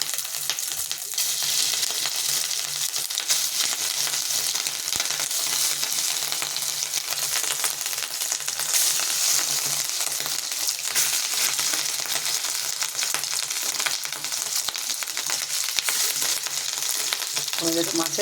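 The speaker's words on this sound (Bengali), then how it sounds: "তেলটা গরম হয়ে এসছে, আমি ছোট ছোট করে ডিমগুলি মাছের এগুলি দেব" Fish roe sizzling steadily in hot oil over a low gas flame, a continuous dense frying hiss with faint crackles, close and even throughout, no talking.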